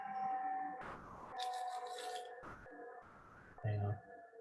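An ambulance siren passes outside, a wailing tone rising and falling in the background behind an indoor voice chat, with several bursts of other noise breaking through.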